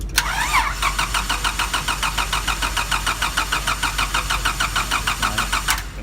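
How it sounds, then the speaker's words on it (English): A car's starter cranks the engine in a steady rapid whirring rhythm for several seconds during a starter draw test, close and fairly loud, ending abruptly as cranking stops. "Go ahead and turn it over."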